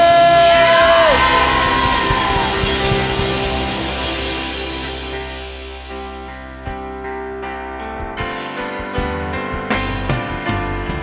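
A church congregation at a Sunday worship service cheers and shouts together in a loud, sustained crowd roar that slowly fades, with a few sharper whoops near the end.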